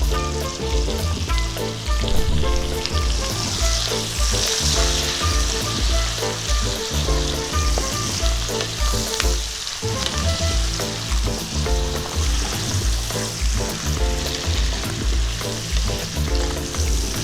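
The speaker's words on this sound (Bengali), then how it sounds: "নুন হলুদ দিয়ে ভালো করে নাড়িয়ে চাড়িয়ে নিচ্ছি" Chicken pieces fry loudly in a pan with onion, salt and turmeric for chicken surua, a dense continuous sizzle broken by steady rhythmic scraping of a spatula as the meat is stirred throughout.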